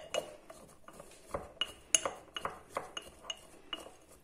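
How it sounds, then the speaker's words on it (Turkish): A spoon stirs a honey, onion and garlic mixture in a bowl, making light, close clinks that repeat about every half second with soft scraping between them. "İyice bal, soğan ve sarımsak birbirine girecek şekilde karıştırıyoruz."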